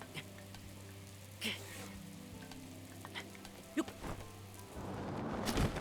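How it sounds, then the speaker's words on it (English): Rain patters steadily in Breath of the Wild, a fine hiss of drops with occasional light taps over a low game hum, swelling louder in the final second. "Oh, it's because it's raining."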